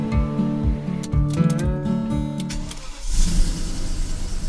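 BMW 535ia sedan being driven after its DME engine computer was reset, its engine running steadily with a brief lift around the middle before pulling again, loud and close, with no talking.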